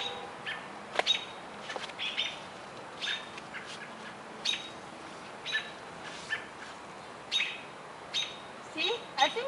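Baby parrots that fell from their nest give short, thin, high chirps at irregular intervals, faint and close-by against a quiet, hissy background.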